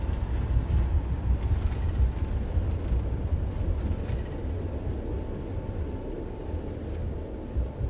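An Airbus A320 Neo in a Toliss flight simulator brakes hard during a rejected takeoff on the runway, a loud low rumble and roar that gradually eases over several seconds, with no talk.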